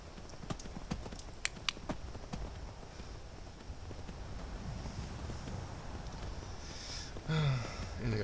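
Horse hooves clip-clop in the video game Skyrim, with a few sharp hoof strikes early on over a constant windy backdrop that lingers after the footfalls fade.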